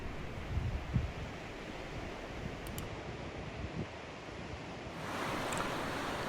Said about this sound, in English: Dana Point has some great beaches for surfing, like this one, which is called Dana Strands.